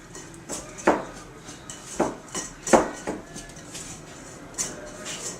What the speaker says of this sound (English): So we're just going to mix that all together.